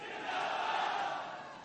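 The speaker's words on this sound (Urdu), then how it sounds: "میرے ساتھ مل کے نعرہ لگائیں," A crowd at a political rally chants a slogan together in one sustained, loud collective shout.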